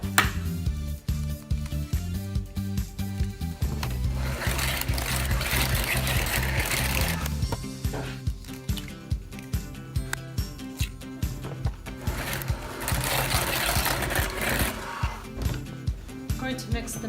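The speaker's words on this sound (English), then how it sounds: "Now I'm going to add the 3 eggs, 1 at a time, beating after each one." Electric hand mixer beating eggs into cupcake batter one at a time, a steady whirring drone broken by repeated short knocking pulses, recorded close in a small home kitchen.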